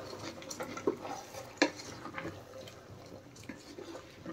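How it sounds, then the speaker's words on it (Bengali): Soaked rice stirred together with chicken in a pot, quiet scraping and a couple of sharp metallic clinks from the spoon against the pot. "এখন ভালোভাবে নেড়ে চেড়ে চিকেনের সাথে মিশিয়ে দেব।"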